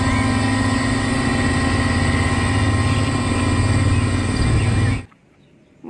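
A toy ladder fire truck hums with a steady engine-like drone, loud and close, running continuously for about five seconds before cutting off abruptly into near silence.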